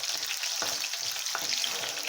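Potatoes frying in a pan for chili paneer, with a continuous close bubbling sizzle and soft stirring scrapes and no talk.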